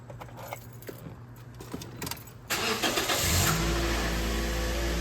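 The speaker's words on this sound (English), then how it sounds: "Now we're ready to start it up and see what it sounds like." A 2009-2013 Toyota Matrix engine starts after a catalytic converter exhaust bolt spring replacement, with a short crank that catches into a steady idle, preceded by light rattling and clicks nearby.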